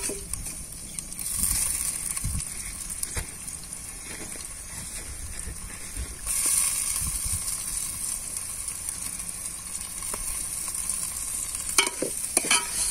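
Chopped tomatoes and rock salt go into onions frying in a pan, a steady close sizzle with stirring clatters and a few sharper scrapes of a spoon, with no talking.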